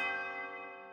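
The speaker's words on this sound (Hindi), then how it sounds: "12वीं घंटी की आवाज पर महल की पुरानी घड़ी काम करना शुरू हो गई" A single deep strike of an old palace clock bell, ringing loud and close with a rich metallic tone that hangs and decays slowly, alone with no voices.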